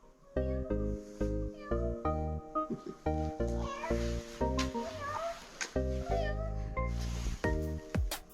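A cat meows again and again at close range, loud insistent calls in quick succession, with a soft voice murmuring between them.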